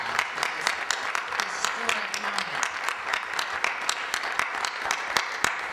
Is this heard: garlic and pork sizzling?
no